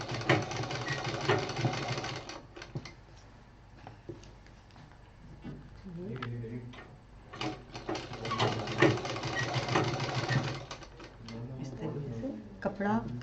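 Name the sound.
sewing machine stitching cloth pouch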